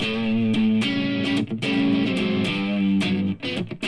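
Crunchy electric guitar through a Two Notes CAB M cab simulator and mic, with no reverb: a dry, mildly distorted riff of strummed chords and short picked notes, close and steady, with brief gaps between phrases.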